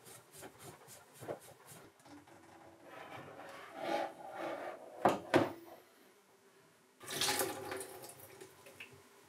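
Water filter cartridge loosened with a supplied tool: quiet rubbing and scraping, a few sharp plastic clicks, and a longer grinding twist near the end, close up with no speech.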